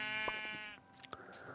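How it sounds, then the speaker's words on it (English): Minecraft sheep bleat in a survival world, giving a loud, close, wavering baa followed by a second shorter bleat, with light clicks between, no talk. "So since I have 2 sheep right here"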